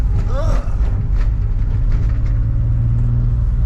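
An Infiniti G35 engine with a straight pipe exhaust idles in a low, steady rumble close by, with voices over it.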